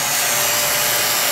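A vacuum pump draws down the refrigerant line of an old refrigerator being repaired for a freon leak, giving a steady, loud broadband hiss and whir that runs unbroken with no talk.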